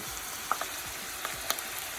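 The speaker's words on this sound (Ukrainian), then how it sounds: "Цибулька смажиться і починаємо смажити наші плясочки" Grated potato pancakes fry in a hot pan beside onions, a steady close sizzle broken by a few sharp pops and crackles.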